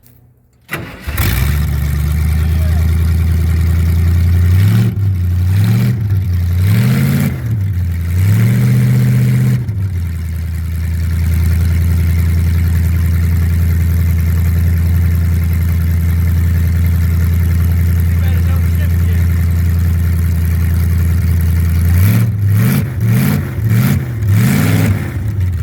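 A 1979 Ford F150 truck engine, long unused, cranks and catches, then revs hard in several rising bursts, settles into a loud steady idle, and revs again in quick blips near the end.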